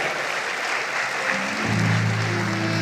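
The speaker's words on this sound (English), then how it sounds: "Please welcome them with a huge round of applause as they walk down the aisle." Audience applause greets dignitaries arriving at a college day and awards ceremony in Mangalore, a steady wash of clapping with a low hum entering midway, no voices.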